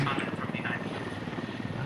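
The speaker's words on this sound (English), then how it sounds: "now you have the Special Forces Russian helicopter trying to get a nice southern flank" A Russian special forces helicopter flies in a war game, its rotor throb dense and steady with engine roar, while a voice talks over it throughout.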